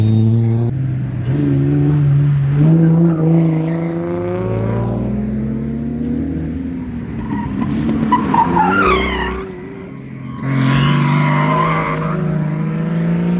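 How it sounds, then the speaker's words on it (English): Race cars roar past on a track one after another, loud engine sweeps rising and falling with tire squeal and skidding, a near-continuous stream of passes with a brief lull midway. "the cars just keep coming past and coming past and coming past"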